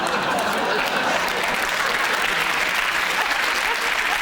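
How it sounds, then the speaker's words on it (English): Studio audience on a comedy panel show bursting into dense, steady applause, loud and close, filling the whole stretch without pause. "Just think about what you're applauding."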